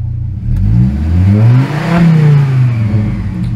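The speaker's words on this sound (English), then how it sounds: "accelerate to wide open throttle, release when fuel cutoff occurs" A Chevy Colorado or GMC Canyon engine revs hard to wide open throttle during a crankshaft position variation learn, climbing steadily in pitch, then dropping at fuel cutoff. The engine is loud and close, with no talk over it.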